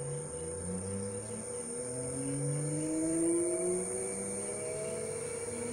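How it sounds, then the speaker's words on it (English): A three-phase lathe motor driven by a VFD inverter on single-phase power hums steadily with a whining electronic tone, rising slightly in pitch and loudness midway, close and alone. "The motor is running."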